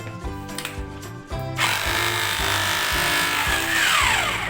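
A rotary hammer drill set to hammer mode bores into concrete, starting after a brief mechanical rattle and settling into a loud, steady grinding hammer that runs close up to the end.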